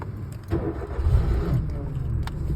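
A car engine cranks and catches after a faint fuel-pump hum, settling into a steady, close idle with low rumbling throughout; a few light clicks sit on top, and no one speaks over it.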